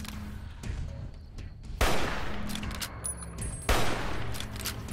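Gunshots in Fallout New Vegas: two sharp, loud blasts about two seconds apart, each ringing out with a decaying tail over background game ambience, with a brief spoken word.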